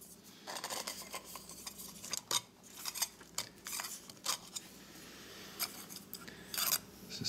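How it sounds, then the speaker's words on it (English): Lid of a heavy-duty aluminum can alcohol stove being pried off, close scraping and rasping metal sounds in short irregular bursts with quiet pauses, no talk. "the lid's going to be hard to take off, but I'll take it off to kind of show you how this one's built"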